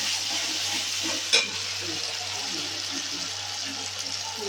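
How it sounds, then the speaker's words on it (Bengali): Poppy seed, cashew, raisin and chilli paste frying in hot oil for doi potol, a continuous close hiss and sizzle with soft stirring and one sharp clink of a utensil. "দিয়ে এখন মশলাটাকে কষাবো।"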